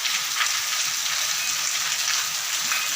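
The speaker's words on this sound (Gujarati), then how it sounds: "સારામાં સારો વરસાદ અત્યારે વરસી રહ્યો છે" Heavy morning rain pours down in a village, a dense, steady hiss of falling water that is loud and unbroken throughout, with no voices.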